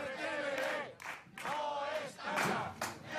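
A crowd shouting and booing as regional police arrive at a television station, with loud surging bursts of massed voices that swell and break off in rough waves, sounding close.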